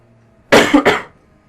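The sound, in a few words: coughing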